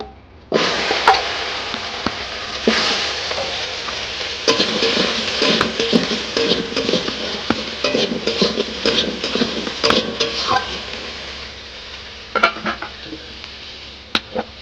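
Potatoes and onions sizzle in a hot pan while a utensil scrapes and clatters repeatedly, stirring in irregular bursts close by.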